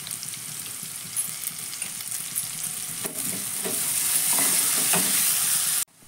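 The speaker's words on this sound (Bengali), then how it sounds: "গ্যাসের ফ্লেমটা আমি কমিয়ে দিয়ে আমি ঢাকা দিয়ে গাজরটাকে 2 মিনিটের জন্য একটু ভেজে নিব।" Chopped carrots sizzle in a hot pan with a pinch of salt, a steady close frying hiss with stirring scrapes and crackles that swell louder toward the end before cutting off abruptly.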